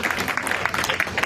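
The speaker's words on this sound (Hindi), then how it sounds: "जोरदार जोरदार तालियों से स्वागत कीजिए इनका।" Crowd at a BJP political gathering clapping to welcome guests, a brief patter of many hands at moderate distance.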